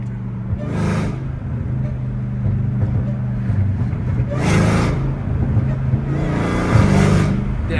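A Dodge Hellcat Redeye with a catless straight-piped exhaust rumbling at idle, heard from inside at close range. The engine swells into three separate revs, each a loud, raspy rise that quickly drops back to a steady drone.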